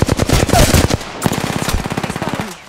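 Loud video game gunfire: a fast automatic burst, a brief gap, then a second quicker string of shots that gradually fades out.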